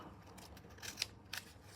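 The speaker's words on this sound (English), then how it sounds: "let me just grab my scissors, kind of trying to make sure I cut it straight" Scissors make a few crisp snips while cutting paper for a journaling craft, quiet and close, with short scattered cuts over a faint background hush.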